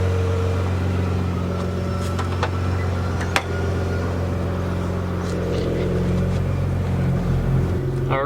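A Nissan Skyline GTR cruises with a steady low engine hum heard from inside the car, with a brief sharp click partway through.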